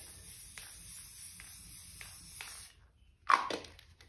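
Spray paint can spraying over artwork in short, light repeated bursts of hiss, then a pause and one stronger, louder spray near the end.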